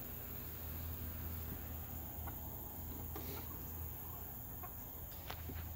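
Hens clucking softly in the background over steady outdoor noise, with a few sharper calls standing out near the end.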